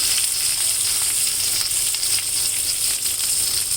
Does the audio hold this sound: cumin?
yes